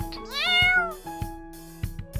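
A single clear, drawn-out cat meow rising and falling in pitch, close and loud, followed by a few soft knocks.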